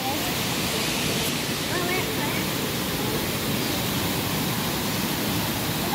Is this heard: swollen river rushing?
yes